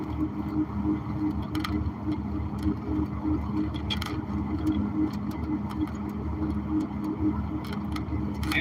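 Steady car engine and road rumble from inside a moving vehicle on Bradley Road, a continuous low drone with faint ticking, no talking.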